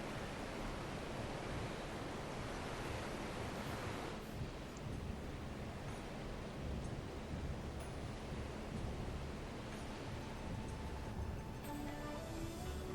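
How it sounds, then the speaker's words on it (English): Ocean waves crashing in Final Fantasy XIV near the port of Kugane across the Ruby Sea: a steady, loud roar of surf and wash that fills the whole stretch with no speech. "And the crash of the waves as we drew closer to Kugane."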